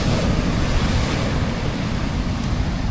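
Wind roars steadily across a fishing beach with surf washing in, a dense, loud broadband rush that never lets up, with no voices.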